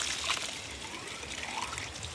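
Water pours steadily into a planting hole dug for a fruit tree on a garden slope, making a continuous close trickling and splashing rush with no pauses.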